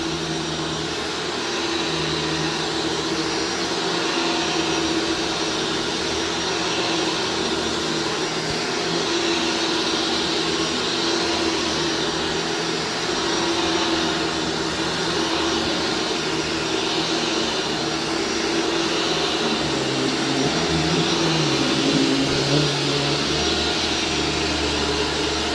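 Shark Stratos upright vacuum cleaner running continuously, a loud steady motor whine with broad airflow hiss throughout, close by with no voices.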